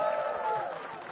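Audience applause fills a hall at an awards ceremony after a song performance, a steady broad wash of clapping from a crowd that holds loud and even for the whole moment.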